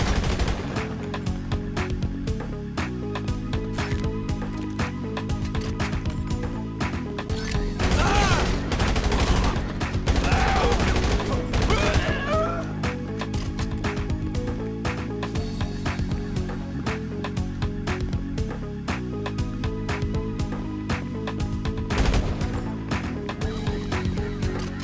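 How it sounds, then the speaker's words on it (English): Gunfire sounds as rapid, continuous bursts of shots over a dense, loud background, with heavier volleys in the middle of the stretch and no speech. "Start shooting"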